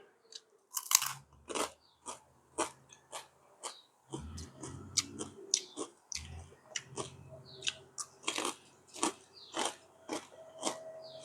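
Close, crunchy chewing of fresh vegetables eaten with a chili shrimp-paste dip, steady rhythmic bites and crunches with short pauses, and no talking.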